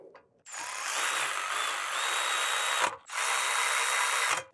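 A power tool whirs loudly in two long bursts with a brief pause between them, driving in the front brake caliper bolts on a 2012–2021 VW Passat B7, heard up close with no talking.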